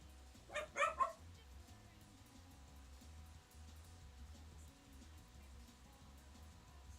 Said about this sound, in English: Yeah, that was my dog in the background barking.